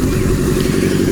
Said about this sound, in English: now the engine's running fine after all that hard work